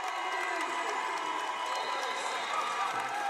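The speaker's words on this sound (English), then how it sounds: "a timeout called by Delisha Milton Jones and the SECU crowd to their feet" A basketball crowd at a women's college game rises to its feet during a late timeout, a sustained roar of cheering and shouting that holds steady throughout.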